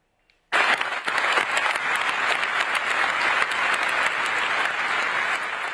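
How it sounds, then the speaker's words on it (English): Delegates at the COP28 final plenary session break into loud, sustained applause after the agreement is announced, starting abruptly from silence and holding steady as a dense wash of clapping from a large hall crowd. "delegates erupting in applause after the COP28 president announced the agreement at the final plenary session"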